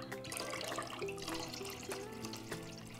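Cloudy soaking water is poured off sunflower seeds, a soft continuous trickle and splash of liquid with small gurgles and drips, close by and fairly quiet, with no talking.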